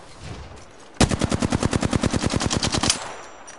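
Rapid automatic gunfire in the video game Apex Legends erupts suddenly after a second of quiet, a loud close burst of about twenty evenly spaced shots that stops abruptly, followed by a faint tail.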